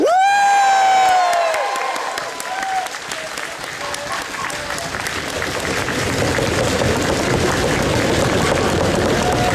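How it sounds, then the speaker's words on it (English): Convention panel audience bursts into loud applause with cheering and whoops, starting abruptly and holding steady as a dense crowd roar, with some voices shouting over it. "Applaud!"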